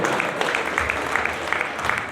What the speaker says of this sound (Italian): grazie, un applauso ancora.